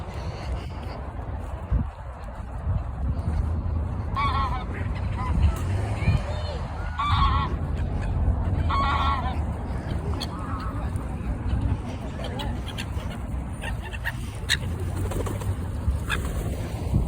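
Geese honk in scattered repeated calls over an outdoor background murmur in Scotland, with some talking nearby; the honks come in short clusters at moderate distance.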